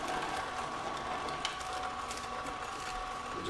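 An Omega juicer runs with a steady, fairly loud mechanical whir and faint rattling gear noise, continuous throughout with no talking.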